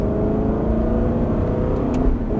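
An Aston Martin engine drones steadily and loudly on a race circuit, revving as it accelerates, with a continuous rising mechanical whine and no voices.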